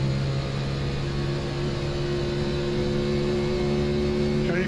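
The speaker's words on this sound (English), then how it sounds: "I can't hear you over the engine noise" Race car engine droning steadily in the video game iRacing, a loud, continuous humming roar at a near-constant pitch from start to finish.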